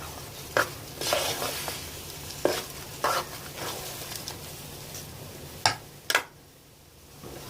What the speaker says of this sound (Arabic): هديله شويه تقليب وهرجع لكم لما اكون عايزه اطفي عليه